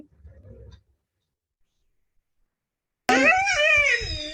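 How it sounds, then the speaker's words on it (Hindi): A dog gives a loud, drawn-out vocal howl with a warbling, wavering pitch, starting suddenly after a long silence and holding close and strong to the end, with a faint murmur before it. "अभी सुन लें, उस कुत्ते को राम राम कहते हुए"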